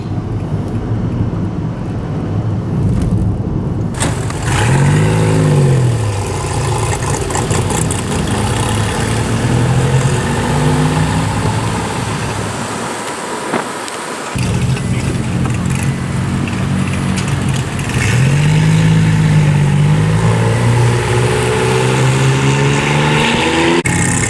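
DeLorean car driving on a road toward Woodstock, Illinois, a steady engine drone with passing swells and a brief dip midway, heard from close inside or near the car with no talk.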